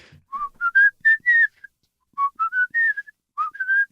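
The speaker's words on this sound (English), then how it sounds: "that last whistle was great" A person whistles a short melodic phrase of rising and falling notes, pauses, then repeats it, clear and close in a quiet room.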